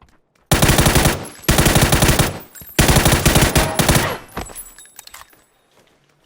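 Loud bursts of automatic gunfire from PlayerUnknown's Battlegrounds come in three long rapid-fire volleys, each a dense run of shots, followed by a quieter trailing spell of scattered noise.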